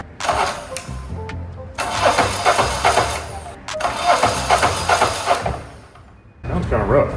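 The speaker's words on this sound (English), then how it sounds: "Let's see if we can just talk this starter into doing something this way" A starter cranks a high-compression diesel onboard generator engine in loud, labored bursts, turning over in two long runs with a brief pause between and a third attempt starting at the end; a voice speaks briefly over the cranking.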